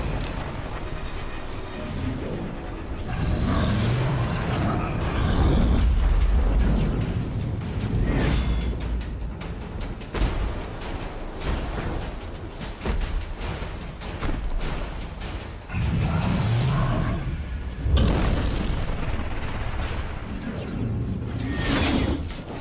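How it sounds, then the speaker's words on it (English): Clattering metallic impacts and crunching blows from breaking armor latches on an ogre's leg in the game Extinction, heavy and repeated in irregular bursts over a rumbling background. "Having finally destroyed all the latches, Avil is now able to dismember the first of this ogre's legs"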